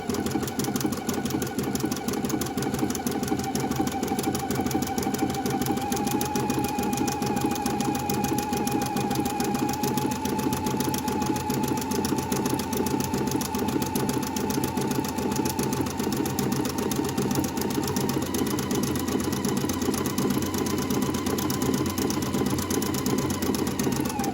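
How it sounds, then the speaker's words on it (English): Domestic sewing machine running a 3-step zigzag stitch on swimsuit fabric, a steady close mechanical whir and rapid needle clatter holding at constant speed throughout, with no talking. "So as I'm stitching, just pull just a little."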